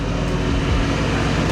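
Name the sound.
Audi RS6 engine revving with Redstar exhaust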